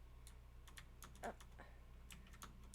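Quiet keys clatter on a computer keyboard during a Spiritfarer game session, in irregular bursts of taps over a steady low hum, with no talking.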